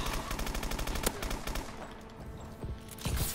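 Pistol gunfire in Call of Duty: Advanced Warfare, a dense, rapid string of loud shots in close succession that thins out midway before a few more bursts return.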